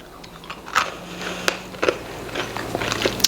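Someone bites and chews a crunchy, gingerbread-like muffin that is hard outside and soft inside, giving a series of sharp, close crunches and crackles spread irregularly across a few seconds.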